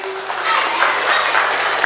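Audience applause at a live event in Bali, a dense wash of many hands clapping close by for the full two seconds.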